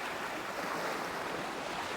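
Rough sea breaking on shoreline rocks at Beadnell, Northumberland, a dense, continuous roaring wash of surf with wind, loud and unbroken throughout.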